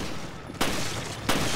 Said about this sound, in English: What is this gun he's using? It's super weak.